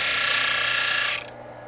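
An HP-8 intarsia machine grinds with a loud, steady high whine that holds for about a second before cutting off abruptly and winding down to a low hum.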